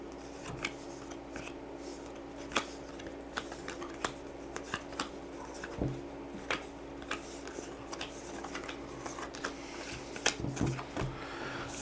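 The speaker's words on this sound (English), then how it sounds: "You'll then take the rest of these cards and you'll shuffle them up" Game cards from a One Piece edition of Clue being shuffled by hand at a table, a steady run of soft papery riffles and flicks with sharper snaps scattered throughout, fairly close and without any talking.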